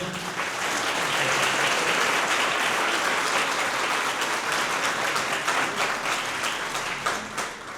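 A live audience gives a strong, sustained round of applause to welcome Monseñor Gustavo Carrara, archbishop of La Plata, at a gathering; dense steady clapping fills the whole stretch without talk.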